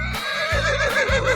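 A horse in a 3D animal video game neighs in quick, wavering whinnies, loud and close, backed by a pulsing low game-music or sound-effect bed.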